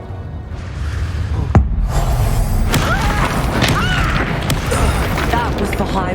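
A fire spell blast in the game Hogwarts Legacy, a loud whooshing boom with a sharp crack near the start followed by sustained roaring rumble and battle noise, with game voices over it.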